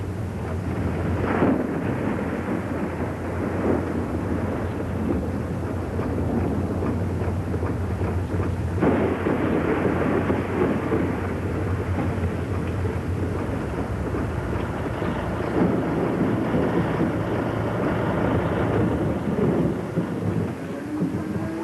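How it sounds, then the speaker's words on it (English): A heavy thunderstorm on a farm, with steady loud rain and rolling thunder that builds and swells several times across the stretch, no voices over it. "We're in for a heck of a storm, lad."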